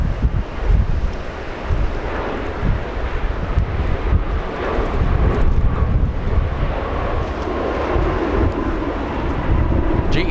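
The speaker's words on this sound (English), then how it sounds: "GE90s slowing down that 777 on runway 24 right." A Boeing 777 with GE90 engines on landing rollout on runway 24 right at Los Angeles International Airport, a steady, wind-buffeted roar of engines slowing down that holds loud and broad throughout, with no voices.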